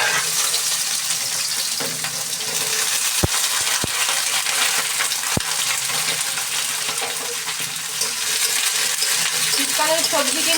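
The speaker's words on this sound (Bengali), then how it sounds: "এখন সিম ভাজি করব। এই জন্য কড়াইতে তেল দিয়ে দিয়েছি, তেল তো গরম হয়ে গেছে, এখন সিমগুলোকে দিয়ে দেবো।" Flat beans (shim) sizzle in hot oil in a wok, a steady, loud frying hiss running throughout with a few sharp clicks and pops.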